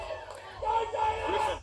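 A crowd at a rugby match murmurs and calls out in a dense, distant wash, with a commentator talking over it.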